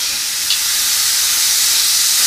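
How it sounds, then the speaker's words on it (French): Duck breast (magret) lies skin-side down in a pan on fairly high heat and sizzles loudly, a dense, steady, close hiss that holds from start to finish. "on met une poêle à chauffer à feu assez vif. Et on vient déposer le magret côté peau."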